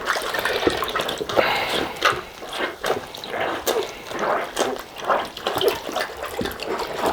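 Goalkeeper gloves squeezed and sloshed in cold water, giving repeated wet squelches and splashy drips in an irregular rhythm, close and moderately loud with no talking.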